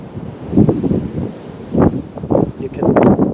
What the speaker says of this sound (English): Apparently, it's really windy today.